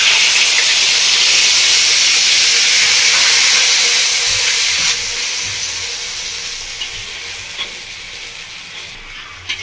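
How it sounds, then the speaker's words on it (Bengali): Ginger paste fries in hot oil for shukto with a loud, close, hissing sizzle that gradually softens over the course of the clip. "আদা বাটা দিয়ে একটু ভেজে নিয়েছি,"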